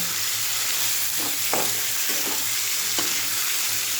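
Green chilli, carrot and potato fry together in a pan with a steady broad sizzle throughout, broken by several short scraping stirs of a spatula; no voices.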